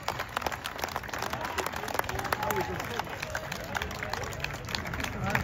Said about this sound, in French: Mesdames, messieurs, applaudissements pour donc le coureur Vyacheslav